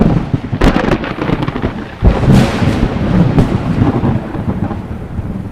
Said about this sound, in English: the Lord, in answer, sent thunder and lightning out of the heavens